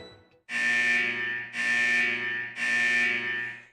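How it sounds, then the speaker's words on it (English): A corridor alarm blares in three long, loud pulses of about a second each, a harsh buzzing tone repeating with short gaps and no voices over it. "Suddenly, the corridor alarm blared alive again."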